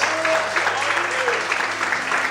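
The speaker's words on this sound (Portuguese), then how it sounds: "aplauda o Senhor e glorifica a Deus. As fortes palmas." A church congregation claps in praise during an evening service, giving a thick, continuous round of applause from a crowd with faint voices mixed in.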